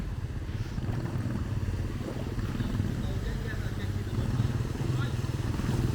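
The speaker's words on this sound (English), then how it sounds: "A couple of motorbikes coming through." A couple of motorbikes ride through floodwater in Siem Reap, Cambodia, during typhoon flooding, their engines droning steadily and fairly close over splashing, with a continuous low rumble throughout.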